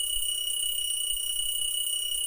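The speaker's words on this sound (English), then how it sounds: "An alarm clock is ringing," An alarm clock rings in a visual novel video game: a steady, loud electronic alarm tone holds for the whole stretch, with no voices over it.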